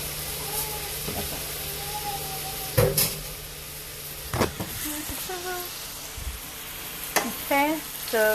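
Instant chow mein noodles hitting a hot pan and being stir-fried, with a steady sizzle and hiss, scraping stir strokes and a few sharp clatters of utensil against pan, fairly close.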